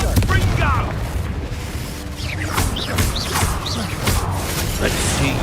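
Confringo fire-blast spell explosions in the Hogwarts Legacy video game, crashing booms and whooshing magical bursts over a busy combat soundscape, loud and repeated, with a voice calling out spells over the action.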